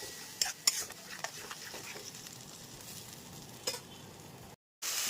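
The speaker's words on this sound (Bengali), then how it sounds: "মশলাটা ভালো মতো কষানো হয়ে গেছে" Spice paste fried and stirred in a pan while cooking a spicy tangra fish curry, with soft continuous sizzling, a few sharp scraping clinks of the spoon against the pan, and a brief drop to silence near the end.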